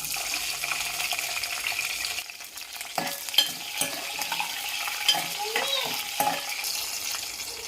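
Mustard seeds, cumin and green chilies sizzle in hot oil for a home-style brinjal fry, a steady close hiss broken by a few sharp knocks of a spoon against the pan.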